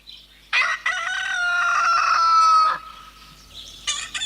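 A voice imitates a rooster, giving one long, strained cock-a-doodle-doo crow, then starting a second call after a short pause.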